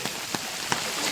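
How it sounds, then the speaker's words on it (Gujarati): Heavy rain pouring steadily during a village flood in Malu, a dense, continuous hiss of drops on surfaces with a few sharper splats, close and loud with no talk. "ઉપરથી આકાશમાંથી વરસાદ પણ ખૂબ જ પડી રહ્યો છે"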